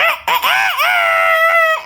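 A person imitates a chicken with a loud, close, squawking vocal cackle, several quick rising notes running into a long strained held cry.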